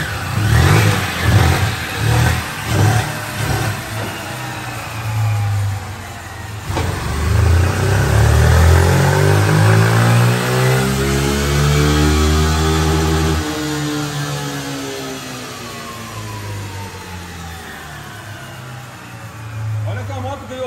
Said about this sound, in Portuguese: Vou testar até o motor ficar estralando e até a potência estabilizar.